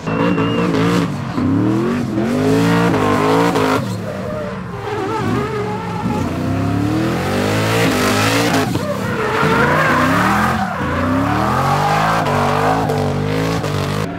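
Rally car sliding and skidding around a race course at a French rally event, engine roaring loud and close with repeated tire squeal and shifting revs throughout, no talk.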